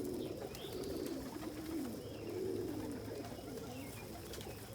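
Fancy pigeons, including Indian fantails and blue white bar homers, coo steadily and close by in a backyard loft, their soft rolling calls overlapping continuously with no talking.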